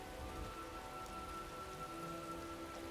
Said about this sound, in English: I think we should go to the tavern since it's raining.